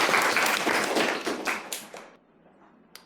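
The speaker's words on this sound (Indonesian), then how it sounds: "Aplaus dulu dong" A short burst of applause fills a classroom, dense clapping for about two seconds before tapering into scattered claps and quiet, with one last clap near the end.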